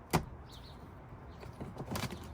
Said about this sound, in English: Now you push the door handle forward.